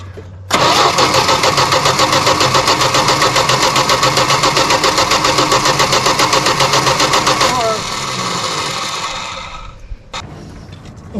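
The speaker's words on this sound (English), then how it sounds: "You crank it over for me." A 1973 Dodge Dart Swinger barn find, unstarted for 29 years, cranks over with the choke open: a loud, close, rapid rhythmic churning for about seven seconds, then a softer uneven rumble as it tries to catch.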